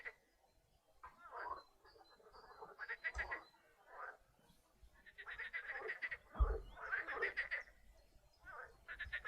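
Frog croaks in a looping ambience track for an MMO game, with repeated bursts of rhythmic croaking separated by short gaps, close and moderately loud with no talking.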